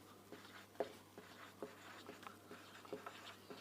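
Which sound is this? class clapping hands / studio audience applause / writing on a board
writing on a board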